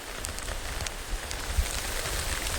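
Heavy monsoon rain pours steadily in a rural Malnad village, a dense, constant hiss of drops pattering on surfaces nearby with no talk.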